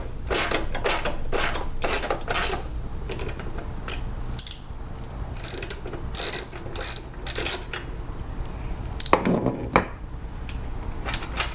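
A ratchet wrench working a bolt on a Harley-Davidson Iron 883 during a detachable sissy bar install, close and loud, clicking in quick bursts of rapid pawl ticks separated by short pauses.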